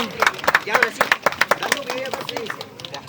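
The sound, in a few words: wedding guests applauding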